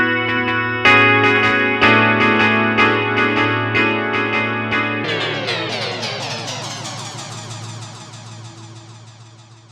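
Sustained synth chords ring out through a Meris MercuryX Ultraplate plate reverb with predelay, dense and bright, their tails washing together and slowly fading into a long shimmering decay.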